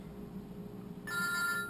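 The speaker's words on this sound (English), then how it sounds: "Oh shit, phone call, hold on." A telephone rings with an incoming call, its bright, steady electronic tone cutting in partway through over a quiet room background, close and clear.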